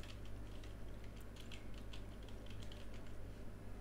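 Keystrokes on a computer keyboard while entering a post tag, a steady run of quiet clicks over a constant low electrical hum with no voices.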